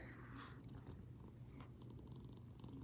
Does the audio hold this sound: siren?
no